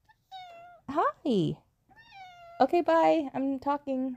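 A pet cat meows several times, drawn-out rising and falling calls close by, mixed in with a person talking casually.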